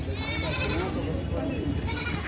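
Goats bleat at a rural goat market in Kalwan, with a roughly eleven-month-old buck among the animals, several wavering calls rising over a busy, crowded murmur of voices and market bustle throughout.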